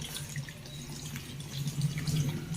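Water poured into a vessel, a soft continuous trickle and splash heard close and fairly quiet, growing slightly fuller toward the end.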